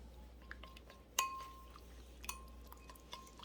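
A spoon stirs seasoning sauce of pepper and ginger syrup in a bowl, giving faint scattered clinks and light taps against the rim over a quiet background, with one sharper ringing clink standing out.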